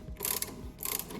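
A spanner is pushed and ratcheted to turn a bolt out on a Honda Accord Euro during a coilover install; quick clicking metallic bursts come in two short runs, close up with no talk.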